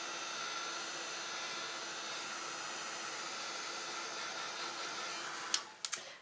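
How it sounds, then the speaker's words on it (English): A heat tool blows hot air to dry white craft ink on cardstock, an even, close whooshing hum that holds steady throughout, ending with a few sharp clicks. "I'm just going to heat it with the heat tool in order to help the white craft ink speed up its drying process"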